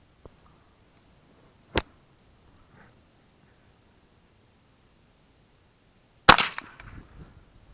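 Old ammunition is fired over a chronograph outdoors: a short, sharp report early on, then a louder close gunshot later with a brief echoing tail, amid quiet surroundings.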